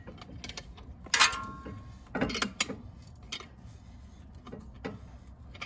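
A C-clamp is tightened to compress the front brake caliper piston on a 2009 BMW 335xi, giving close metallic clicks, ratcheting creaks and short scraping bursts with pauses between them.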